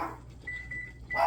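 Kitchen timer being set for two minutes in a home kitchen, a few short electronic beeps over faint background clatter and a brief louder knock at the end.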